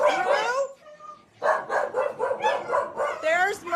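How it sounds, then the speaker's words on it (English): A rescued shelter dog in south Texas barks and yips repeatedly at close range, loud rhythmic bursts with a brief lull, while a person talks to it. "Hey, stop barking at me."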